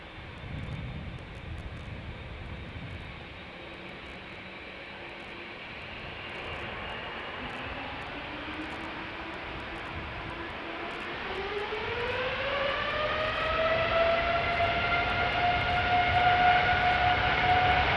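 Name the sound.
KLM Boeing 787-9 Dreamliner jet engines at Schiphol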